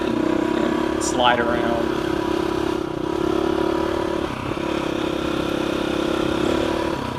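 A motorcycle on a twisty mountain trail ride at Mt. Taiwu, its engine droning steadily close by with the throttle opening and easing, while a rider talks over it throughout.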